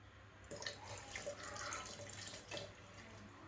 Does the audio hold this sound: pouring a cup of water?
yes